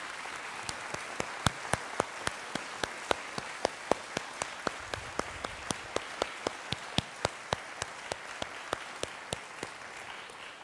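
A church congregation claps in steady applause for about ten seconds, the claps sharp and evenly paced, heard from within a large room with no talking over them.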